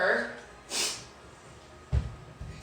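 A single short, sharp nasal sniffle comes in close and breathy between quiet moments, followed by a couple of faint low thumps.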